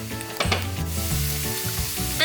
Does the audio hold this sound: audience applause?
no